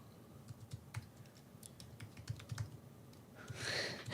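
Someone types on a computer keyboard in quick, irregular bursts of soft clicks, fairly close but quiet, ending with a short rush of broadband noise.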